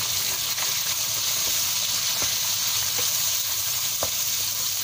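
White radish and okra stir-fry in a pan with garlic, chilli and chicken, producing a continuous bright sizzle and hiss with a few sharp clicks of stirring.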